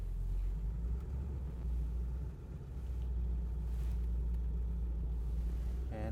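A fire safety trailer truck is shifted into drive with the overdrive off and begins rolling, giving a steady low engine rumble that dips briefly midway and holds throughout.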